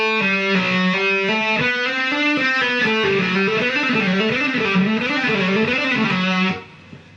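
Distorted electric guitar plays a fast three-note-per-string cycling pattern built on pick-and-hammer-on groups, a bright, sustained run of repeating notes that stops abruptly near the end, with no voices.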